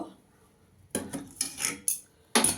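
A spoon clinks and scrapes against a bowl while stirring rice-flour batter thinned with warm water for chitoi pitha, four or five short, close knocks over a quiet background.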